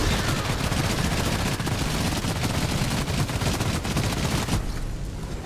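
Rapid, dense gunfire from the reflect bullets skill in the Outriders video game: a loud, continuous barrage of overlapping shots that cuts off abruptly just before the end.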